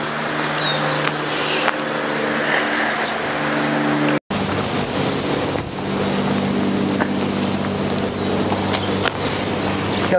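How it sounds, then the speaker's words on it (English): A plane passes overhead outdoors on a windy day, a steady low droning hum that holds throughout the ten seconds, mixed with wind rumble and no talking. "There's a plane overhead, unfortunately"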